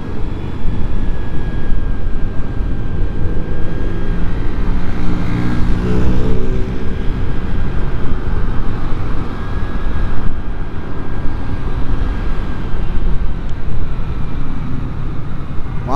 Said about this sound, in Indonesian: Wah, ini kita terjebak macet lagi di sini.